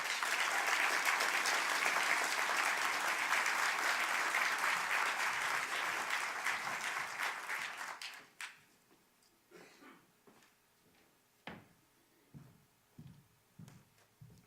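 An audience at the swearing-in of a new Cook County State's Attorney gives a dense round of applause that holds for about eight seconds, then dies away into a few scattered claps and shuffling knocks in a quiet room.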